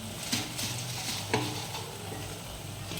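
Fried egg going into a pan of sauce and being stirred, a faint sizzle beneath two or three distinct spatula clinks and scrapes.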